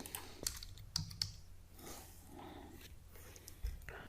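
Scattered keystrokes on a computer keyboard in a quiet room, a handful of sharp clicks spread irregularly rather than steady fast typing, with no voices.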